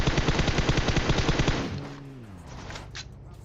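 Rapid automatic gunfire in PUBG Mobile rattles loudly for over a second, then cuts off, leaving a low mechanical hum and faint game sounds.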